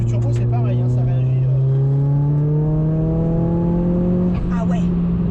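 A Ford Focus RS Mk1 turbo engine pulls hard under acceleration, a loud, close interior drone whose pitch climbs steadily through the gear before a brief dip, with voices talking over it.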